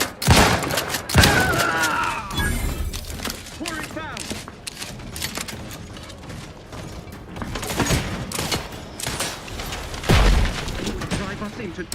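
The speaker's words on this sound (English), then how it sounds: "Yeah, I think those xyranium grenades." Xyranium grenades exploding in the video game Outer Worlds 2, sounding as heavy booms and bursts amid chaotic combat gunfire, with loud blasts near the start and again around ten seconds, under constant speech.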